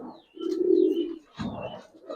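Close, fairly soft cooing from Giribaz pigeons: a sustained low rolling coo, then a shorter second phrase, with no talk.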